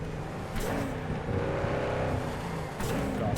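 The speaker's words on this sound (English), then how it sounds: "I'm really not happy driving this car" Car driving in Cyberpunk 2077, a close engine drone with rising and falling whirring tones as it accelerates, plus brief sharp bursts near the start and end.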